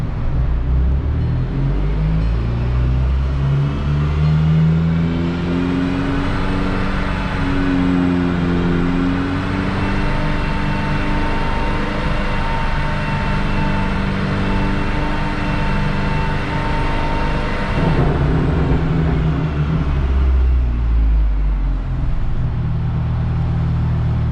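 A VW MK6 GTI with an HPA K04 turbo on a dyno holds a sustained, loud engine roar in third gear that climbs steadily in pitch through a long pull, then drops off near the end, alone without talk.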